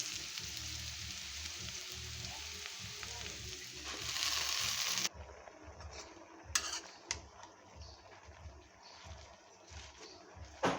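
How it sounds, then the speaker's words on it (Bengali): Malabar spinach going into hot oil with garlic, onion, green chili and black cumin. A loud sizzle at first drops suddenly to a quieter bubbling fry, with scattered stirring clatters and a faint voice. "এখন আমি শাকটা দিয়ে দিচ্ছি"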